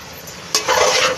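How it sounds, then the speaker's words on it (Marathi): A spoon stirs red chili powder, garam masala and biryani masala in a hot pan for chicken biryani. One brief scrape is followed by a close, steady sizzle. "आता याला आपण मिक्स करून घेऊया."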